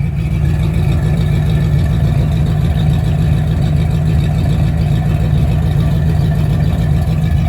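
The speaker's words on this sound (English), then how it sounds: "The idle note sounds clean" A car engine fitted with a freshly tuned Holley-style carburetor idles steadily up close, a loud, even low rumble with a smooth, unbroken rhythm and no talking.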